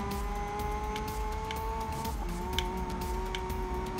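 A race car in GRID Legends accelerates hard. A steady, loud engine whine holds throughout, with rising tonal harmonics and faint tyre noise underneath.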